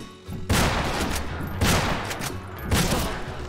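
Three loud gunshot bursts crack out about a second apart in the Western shooter game Fistful of Frags, each with a ringing, rumbling tail.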